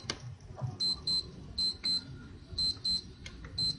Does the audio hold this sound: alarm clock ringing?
yes